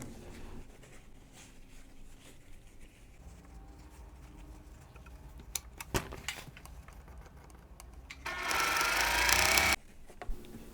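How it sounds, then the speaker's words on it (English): A sewing machine stitches fabric rectangles together for a Christmas ornament quilt block, quiet rapid ticking for most of the stretch, then a loud dense burst of fast stitching near the end before it stops. "Here I'll be sewing the two fabric E rectangles to the fabric A rectangle to create the shorter string unit."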